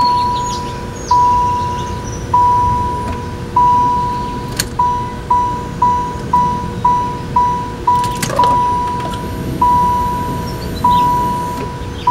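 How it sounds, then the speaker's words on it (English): Under the hood of a 1999 Saturn SL2, a relay clicks on and off in a steady, slightly irregular rhythm, each click followed by a brief beep, over a low, constant hum from the fuel pump. "I can hear the fuel pump. I hear the relay clicking on and off."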